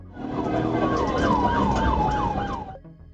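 Police car siren wailing loudly and steadily during a chase, its rising and falling tone repeating over a roaring engine and road noise, close by and continuous for about three seconds.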